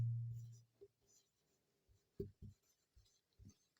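The word 'prince' being written on a board during a class, faint soft taps and strokes in a short irregular sequence after a brief low thump.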